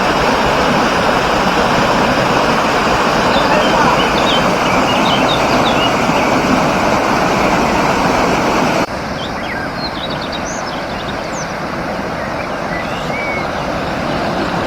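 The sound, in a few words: waterfall at Kassi Rindu, Parangloe-Gowa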